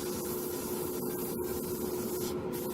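An airbrush sprays thinned paint onto paper, giving a steady, close, even hiss of air and atomized paint that runs without a break and with no voices.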